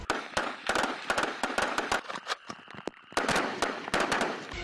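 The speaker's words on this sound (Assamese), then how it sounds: "দিয়া হৈছে অবিৰত গুলীচালনাৰ প্ৰশিক্ষণ" Rapid bursts of gunfire crack in quick succession during Chinese military training near the India-China border, dense volleys with a brief lull midway, loud and close.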